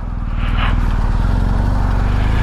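BMW R1250 GS motorcycle engine running close by, a steady low throbbing idle that holds an even, continuous level throughout with no talk.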